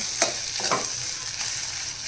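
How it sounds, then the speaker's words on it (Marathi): Salt and coriander powder being stirred in a hot pan for anda bhurji, a soft continuous sizzle broken by a couple of brief scraping strokes, with no talking. "आता आपण हे छान मिक्स करून घेऊया"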